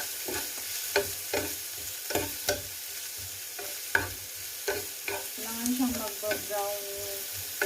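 Beef samosa filling is stirred and fried in a pan, with repeated scraping strokes of a spoon against the pan over a steady soft sizzle, close and moderately quiet, with no talking.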